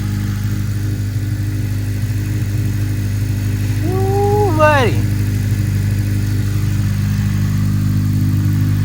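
An 8th-generation Honda Civic Si with a Tsudo exhaust idles with a steady, deep exhaust rumble, while a voice briefly calls out over it.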